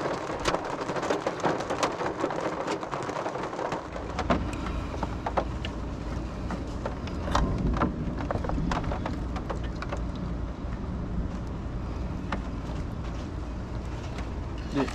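A thunderstorm: steady, heavy rain pours on surfaces throughout, and deep rolls and rumbles of thunder build from about four seconds on, loud and enveloping with no talking.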